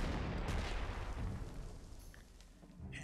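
Artillery fire in the strategy game Panzer Corps 2, a distant rumbling boom that is already under way and slowly fades, with a faint click and a low thump near the end.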